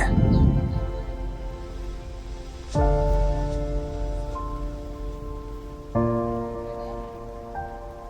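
Continuous patter of rain close by on a mountain trek at Kappatagudda, an area with windmills, with a low rumbling hum underneath that swells at a couple of points; no talking.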